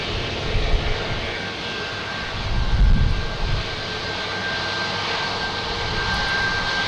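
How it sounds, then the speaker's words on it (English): A JetBlue Airbus A320 jet airliner arrives at Boston Logan Airport, its engines a broad steady roar at moderate distance, swelling briefly near the middle with wind-like rumble. "Next to arrive is JetBlue, an A320 coming in from Nashville."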